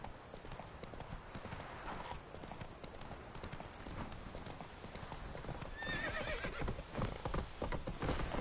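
Roach, a horse in the video game The Witcher, gallops in a steady, close rhythm of hoofbeats, with a whinny partway through over a low background game soundscape.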